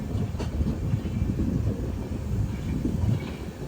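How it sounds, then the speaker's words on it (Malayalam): An approaching train on foggy railway tracks gives a steady low rumble and faint rail clatter, with wind buffeting the microphone throughout. "ഇതിലൂടെ ഒരു വണ്ടി വരുന്നുണ്ട്."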